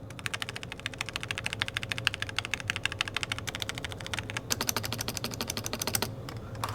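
Fast continuous typing on a Logitech G Pro mechanical gaming keyboard with over two years of use, dense overlapping key clacks with a brief pause near the end before resuming.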